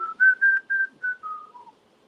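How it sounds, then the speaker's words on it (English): A person whistles a short tune alone, six clear close notes in a quick sequence that slide gently downward in pitch and fade at the end. "I'm whistling."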